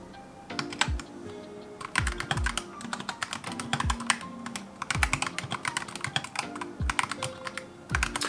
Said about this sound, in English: I'll give you a little video, just a few seconds of the typing